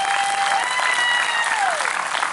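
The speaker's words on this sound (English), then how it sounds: "All right, big round of applause." An audience at a bluegrass music showcase breaks into dense, steady applause that fills the room, with a few thin whistles sliding through the clapping.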